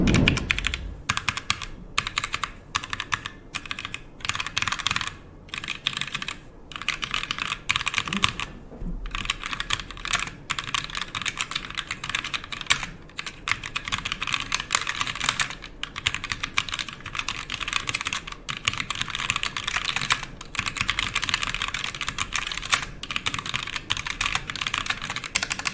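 Typing on a ROCCAT Vulcan TKL mechanical gaming keyboard with low-profile keycaps and fairly quiet stabilizers: a steady, dense stream of crisp, close keystroke clicks and clacks for about half a minute, with no talking.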